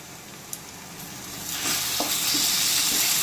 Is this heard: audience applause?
no